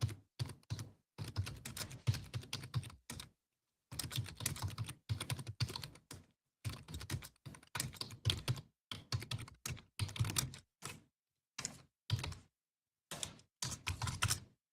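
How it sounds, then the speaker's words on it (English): Loud, close clatter of a computer keyboard being typed on at a home desk, in rapid bursts of keystrokes separated by short pauses, with no voices. "I know my keyboard is loud"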